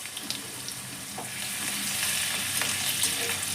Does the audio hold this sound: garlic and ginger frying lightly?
yes